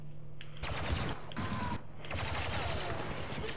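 Blaster fire in the video game Star Wars Battlefront 2, with rapid bursts of shots in several clusters over a steady hum of battle noise, fairly close and continuous through the short stretch.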